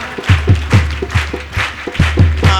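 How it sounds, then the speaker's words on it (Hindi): At a Christmas devotional gathering, a crowd claps in a steady, rhythmic beat, loud and close, with evenly spaced hand strikes running throughout. "जोर से तालियां"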